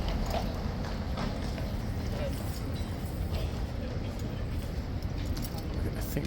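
Hooves of the King's Horse Guards clip-clop steadily on pavement in central London amid a loud, constant crowd and street din, with people talking throughout.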